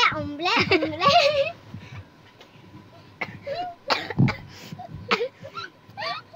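A burst of sneezing and coughing amid excited children's voices, followed by scattered squeals and short vocal sounds.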